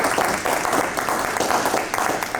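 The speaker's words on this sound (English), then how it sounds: "Let's give him a big round of applause." An audience gives a conference speaker a dense, continuous round of applause that holds steady and close for a few seconds, with no voices over it.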